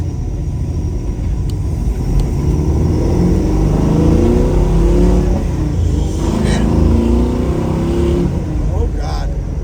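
A 1970 Chevrolet Nova engine drones loudly and steadily, its pitch rising as it accelerates, with a person speaking over the rumble.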